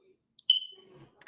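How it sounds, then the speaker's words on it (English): A smoke detector gives one short, high-pitched chirp that rings briefly and fades in an otherwise quiet room, with faint low murmuring just after. "Why the smoke detector?"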